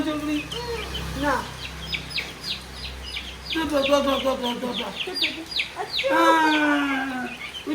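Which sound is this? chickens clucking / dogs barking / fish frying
chickens clucking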